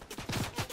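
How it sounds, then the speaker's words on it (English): Fortnite gunfire rattles off as a quick burst of rapid shots, several sharp reports in fast succession within under a second, moderately loud and close. "Did someone shoot at me?"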